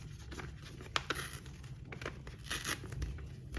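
Botanical washi tape torn by hand gives soft, quiet ripping and crinkling bursts, a few short tears close by and without talk.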